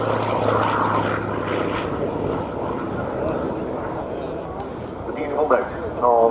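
A naval fighter powered by a 2,500 horsepower Bristol Centaurus 18-cylinder radial engine roars loudly at an air day at RNAS Yeovilton, a continuous heavy propeller drone with rising bursts toward the end.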